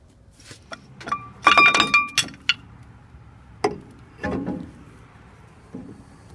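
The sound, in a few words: brake caliper removed from old truck, falling off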